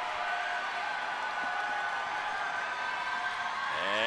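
Home crowd at a men's college basketball game, Augusta against Young Harris, roaring in a steady sustained wash of shouting and cheering that swells louder toward the end, distant and reverberant in the gym.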